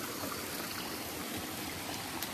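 Fresh water runs down a small channel in rural Konkan, a steady close rushing and trickling with no voices.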